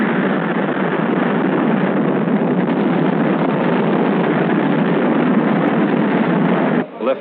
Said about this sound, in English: Liftoff.